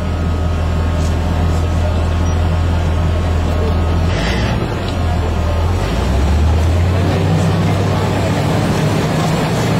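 A Ride The Ducks amphibious duck boat cruises through lake water near Branson, Missouri, its engine droning low and steady at high RPM with water rushing around the hull, loud and continuous throughout.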